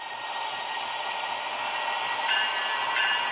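A train engine in the Roblox video game hums as a steady, even drone with faint tonal whine, slowly swelling a little louder and alone throughout.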